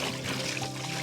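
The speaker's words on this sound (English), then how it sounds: "Put 1 lot of water in." Water pouring steadily into a sprayer tank, a continuous soft splashing rush with no pauses, quiet and close.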